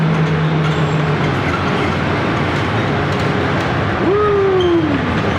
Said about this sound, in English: This is the air train